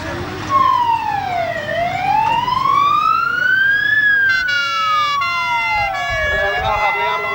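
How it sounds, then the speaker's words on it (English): An ambulance with a police escort leaves an arena at a fire engine rally in Preston Park, its wailing siren rising and falling loudly and steadily, then switching to a faster alternating tone. "We now have the ambulance leaving the arena with a police escort"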